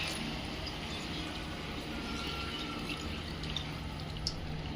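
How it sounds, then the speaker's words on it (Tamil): Water runs steadily into a pan of chicken gravy being cooked, a soft, continuous trickling and pouring wash with faint drips, quiet and without any talking. "தண்ணி ஆட் பண்ணியாச்சு"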